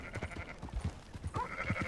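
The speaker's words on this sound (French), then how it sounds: "si je chasse un mouton d'un berger, il va pas aimer" A sheep bleats in the open-world game Red Dead Redemption 2, near a shepherd's flock. One short, moderately loud call rises over a steady bed of ambient game sound and soft hoof-like thuds.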